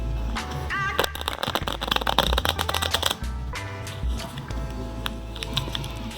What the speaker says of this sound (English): Let's bridge 6 decks of cards.